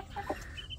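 Chicks and hens make a brief, faint cluck and peep amid quiet farmyard background.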